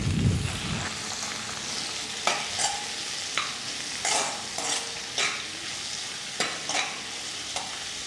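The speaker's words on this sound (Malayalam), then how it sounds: "തക്കാളി ഇങ്ങോട്ട് ചേർത്തിട്ടൊന്ന് വഴറ്റി കൊടുക്കാം." A large tomato sautéed in a pan for sambar: a loud initial splash as it goes in, then steady sizzling with regular spatula scrapes and stirs, close-up, no speech.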